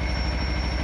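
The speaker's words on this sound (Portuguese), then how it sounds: "deixa eu funcionar a moto aqui" Kawasaki Versys X 300 motorcycle engine idling close up, a steady rapid low-pitched pulsing thrum with a faint high whine above it, no voices.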